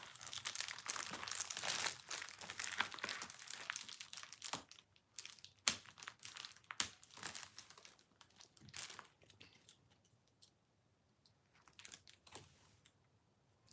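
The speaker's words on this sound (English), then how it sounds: "I want to try to open this package that I got today, but I think I need scissors." Packaging crinkles and rustles as a package is opened, loud dense crackling at first, then scattered sharper crinkles and taps that thin out and fade.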